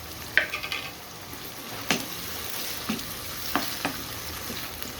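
Minced keema frying in a pan with ginger garlic paste, a steady close sizzle broken by occasional scraping stirs of a spoon.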